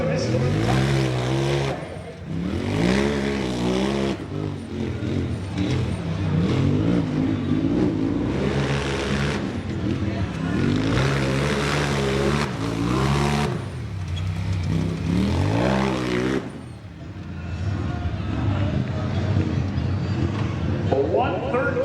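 Rough trucks racing on a dirt track at a county fair, engines roaring and revving loudly and continuously, with an announcer's voice running over the engine noise throughout.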